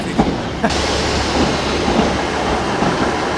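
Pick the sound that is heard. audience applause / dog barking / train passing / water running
train passing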